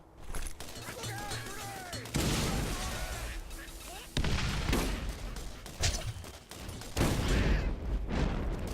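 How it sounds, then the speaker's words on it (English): Loud, rapid gunfire crackles almost nonstop through a Borderlands firefight, punctuated by several heavy booms from a grenade explosion, with voices shouting over the din. "grenade!"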